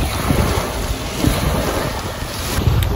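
Strong wind at English Bay beach in Vancouver on a cold day roars across the microphone in loud, gusty buffeting, with surf rumbling underneath throughout.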